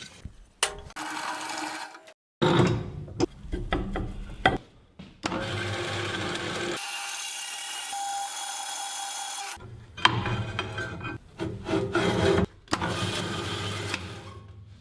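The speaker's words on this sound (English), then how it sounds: "why don't I cut this with the bandsaw?" A bandsaw cuts through a metal plate on a workshop table build, a steady loud grinding rasp running in several long bursts separated by brief pauses, with one extended continuous stretch of cutting in the middle.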